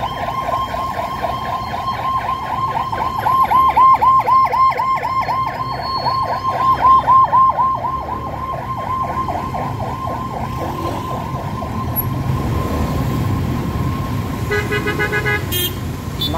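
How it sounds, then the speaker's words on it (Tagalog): A wailing ambulance siren cycles steadily over continuous traffic rumble on C5 Road, loud and close, with a brief horn toot near the end. "Ambulansya."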